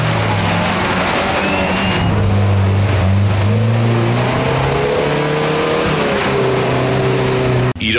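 Racing cars driving on an obstacle-laden race track, engines loud and close with rising and falling revs layered together throughout, ending in an abrupt cutoff.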